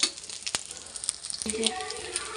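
Pieces of dhoka fry in oil, a moderate, bubbling sizzle with a couple of sharp taps and utensil clicks, growing slightly busier toward the end.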